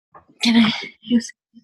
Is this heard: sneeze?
yes